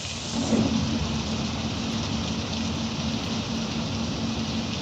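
Steady heavy rain hisses continuously with a low engine-like rumble underneath in the truck driving game Truckers of Europe 3; no talking.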